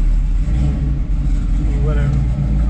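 A 1969 Camaro SS 396 V8 engine runs with a deep, loud, steady rumble and slight rises in pitch, close by, with a voice talking over it.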